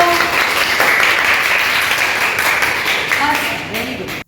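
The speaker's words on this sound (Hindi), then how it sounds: "इसलिए जोरदार ताली होने दो" Students clap in a classroom during a board-exam writing lesson: a burst of loud, full applause that mixes with young voices and chatter and tapers off near the end.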